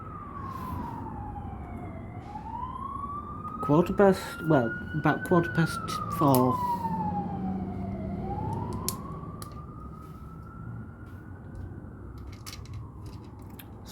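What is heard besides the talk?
emergency vehicle sirens outside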